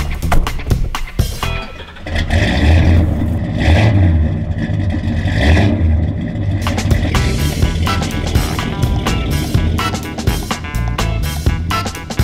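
A Pontiac GTO muscle car pulls away and accelerates on a December drive, its loud, deep engine roaring and revving up close with clattering mechanical detail.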